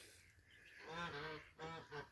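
Farmyard geese honk a few times in quick succession, moderately close, with domestic ducks kept nearby in a poultry pen.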